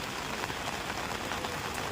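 Heavy rain pours down with a steady, dense hiss of drops striking surfaces, constant and moderately loud, with no voices.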